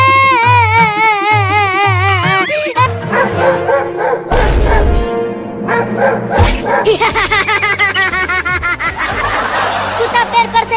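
A dog barks several times in a comedic family scene, sharp yips scattered through busy background music and chatter, with people talking and laughing over it.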